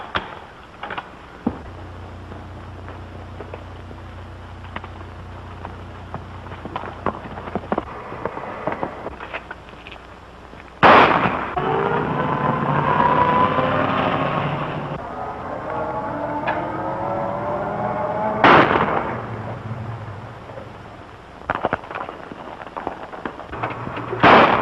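Gunshots ring out in the 1937 western Orphan of the Pecos: a few loud, sharp cracks spaced several seconds apart, with ricochet-like tails and faint clicks over a hissy, noisy background.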